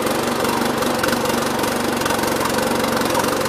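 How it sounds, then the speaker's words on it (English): A push lawn mower engine runs steadily nearby, a loud, even, rapid chugging drone with no pauses and no voices. "Let's see how the push mower does."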